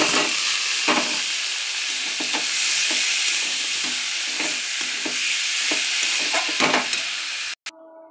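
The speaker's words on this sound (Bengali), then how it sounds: "মোচাটা ঢেলে দিলাম।" Banana flower being stirred and fried in hot spiced oil in a pan, a steady loud sizzle with repeated scrape-and-stir strokes throughout, cutting off abruptly near the end.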